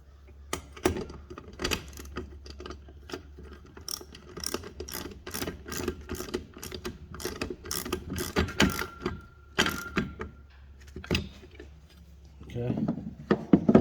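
Hand crank being fitted to an HME truck hitch game hoist, secured with a 3/4-inch nylon locking nut, giving a steady run of close, sharp ratcheting clicks and metallic clanks with no talking.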